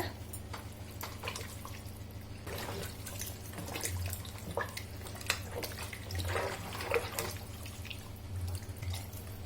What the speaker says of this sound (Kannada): ಇನ್ನು ಸ್ವಲ್ಪ ನೀರು ಸೇರಿಸ್ಕೊಳ್ಳೋಣ.